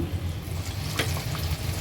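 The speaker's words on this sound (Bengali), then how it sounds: "শিক কাবাব ভেজে নিচ্ছি।" Seekh kebabs fry in a pan with a continuous close sizzle and faint spattering, no talk over it.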